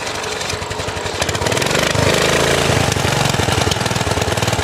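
A vintage 1947 Whizzer Model H motorbike engine runs close and loud, a rapid, rough, knocking putter that rises in intensity partway through and keeps chugging steadily as it warms up.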